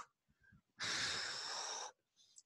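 A single long, forceful exhale blown out through the mouth during a chair yoga breathing exercise, a loud, airy rush lasting about a second, set between quieter breaths.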